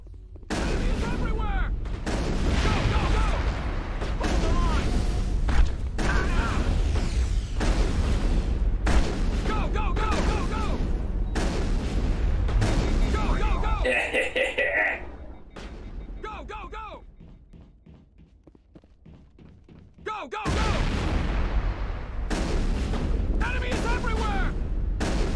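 Dense bursts of sci-fi weapon fire and booming impacts in the video game Mass Effect, loud and close, pausing for a quieter stretch before resuming; a voice talks over much of it.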